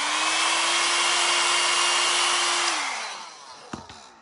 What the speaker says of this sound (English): I should probably do the blow dryer real quick again.